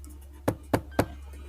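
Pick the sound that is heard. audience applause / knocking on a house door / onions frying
knocking on a house door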